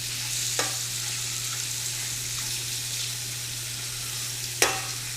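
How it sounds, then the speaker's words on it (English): Scallops sizzle steadily in a hot pan, a continuous frying hiss with two brief louder spits or clatters, no voices present. "We're going to put our scallops in the pan. And they're going to take a minute to cook."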